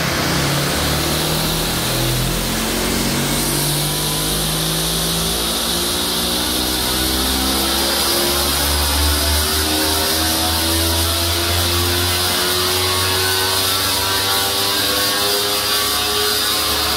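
A Yamaha MT-03 motorcycle engine revving steadily on a dynamometer, loud and close, with a sustained rising whine and mechanical rattle throughout and no talking.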